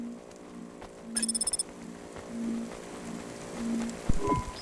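Rain in the video game Cloudpunk falls as a faint, steady patter behind synthetic game tones, a brief electronic chirp and a sharp click near the end.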